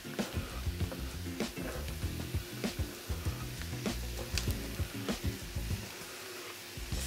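Carrots and celery sizzle steadily in a hot pan, a soft continuous frying hiss with light scraping and stirring taps throughout.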